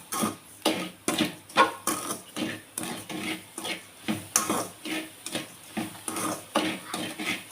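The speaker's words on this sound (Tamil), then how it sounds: "சர்க்கரை ஆட் பண்ணிவிட்டு இதையுமே நம்ம வந்து நல்லா கலந்து விட்டுக்கலாம்" Sugar being stirred into a carrot burfi mixture in a pan: a steady run of rhythmic scraping strokes, about two each second, close and moderately loud, with no voices.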